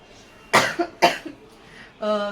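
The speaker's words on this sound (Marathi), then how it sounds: "मला खोकला अजून थोडा थोडा आहेच" A person coughs twice, sharp and close, followed by a brief voiced sound.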